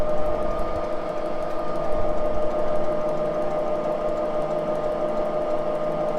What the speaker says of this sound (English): Before I had this jig borer, I ran this on a horizontal milling machine doing the same thing.